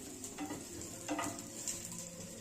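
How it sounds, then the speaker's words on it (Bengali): Two medium onions, cut into wedges, fry lightly in oil in a pan with a soft, steady sizzle and a few quick stirring scrapes close by. "পেঁয়াজটা একটু হালকা করে ভেজে নেব।"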